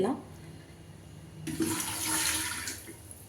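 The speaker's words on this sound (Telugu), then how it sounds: "ఒక లోటాడు వాటర్ వేసేయాలి ఫస్ట్ స్టీమ్ చేసుకోవడానికి" Water pours steadily into an aluminium pressure cooker, a rushing splash beginning partway through and continuing for a couple of seconds.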